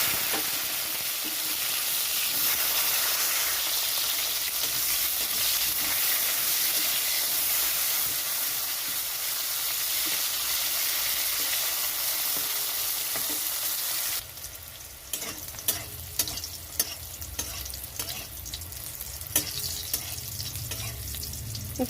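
Salted, turmeric-coated bitter gourd slices fry in hot mustard oil with a loud, dense, continuous sizzle that shifts partway through into sharper crackling and stirring clatter.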